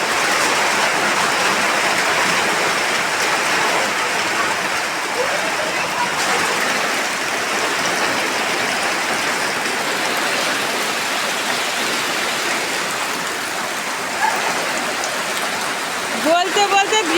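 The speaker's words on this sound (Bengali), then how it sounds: "বলতে বলতে বৃষ্টি আসে গেছে" Heavy rain pours down steadily outdoors and drums on surfaces in a dense, continuous hiss. Near the end, a few louder knocks and spatters break through the downpour.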